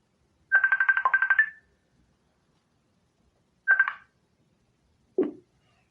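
A telephone rings for an incoming call in two electronic trilling bursts, the first longer, followed by a short low click as it is picked up; clear and close, with no talk over it.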